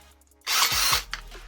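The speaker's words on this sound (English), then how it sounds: "power tool time" Close, loud power tool used to polish out scratches on an aluminium Akrapovic exhaust for a Suzuki Hayabusa, starting abruptly and running at a steady high-pitched whine for about a second before cutting off.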